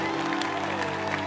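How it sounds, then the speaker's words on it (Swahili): A large crowd at a night worship gathering in a national stadium claps and cheers in a dense, continuous wash of sound. "Mpe Yesu makofi na vigelegele na shangwe"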